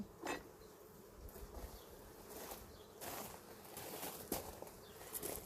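Honey bees buzz on a heavy frame of capped honey during a hive harvest, a dense, steady close hum with brief louder swells and bumps of handling, no voices.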